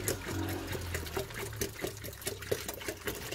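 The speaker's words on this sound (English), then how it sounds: "pour this back into the tank." Slightly diluted seawater is poured back into an algae culture tank, giving a continuous close splashing and gurgling trickle with small irregular bursts over a few seconds.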